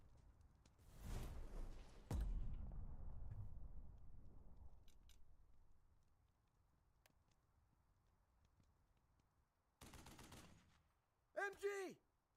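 Machine guns fire in the WWII tactical game Burden of Command, with a loud burst of shots, a quieter lingering stretch, another rattling burst, and then a brief tonal sound at the end.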